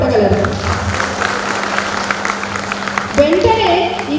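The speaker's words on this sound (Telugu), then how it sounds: "మన గురువులకి ఒక్కసారి క్లాప్స్ కొట్టగలరు" A school reunion audience for former 1998-99 students claps for their teachers, a light patter of applause rising near the end, while a voice talks over it.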